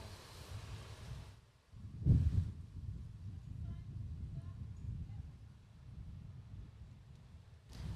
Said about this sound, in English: there's a bit of noise in the background there, and that is just how strong the wind is